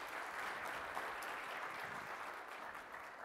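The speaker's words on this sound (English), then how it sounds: "So give yourselves a round of applause." Applause from an audience at a welcome address, a continuous wash of clapping that stays steady and fairly distant from start to finish.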